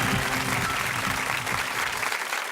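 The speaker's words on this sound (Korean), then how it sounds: "큰 박수로 맞이해 주시기 바랍니다." An audience at a technology forum lecture breaks into loud, continuous applause to welcome a speaker to the stage, a dense, steady clatter of many hands that holds throughout without voices over it.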